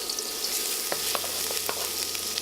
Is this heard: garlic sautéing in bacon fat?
yes